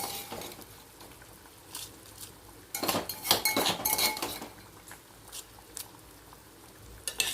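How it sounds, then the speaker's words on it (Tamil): Soaked basmati rice poured into a metal pot for tomato bath, a soft pattering rush with clinks and scraping, fairly quiet and close, no talk. "ஊற வச்சுருக்கோம் இல்லையா அந்த ரைஸை இதில் போட போகிறோம்."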